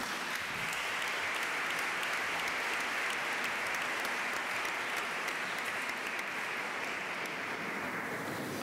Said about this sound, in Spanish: un fuerte aplauso para Jaume